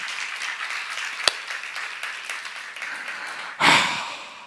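A church congregation breaks into applause after a sermon, a burst of clapping that swells suddenly near the end over a quiet room with breathing and faint rustle.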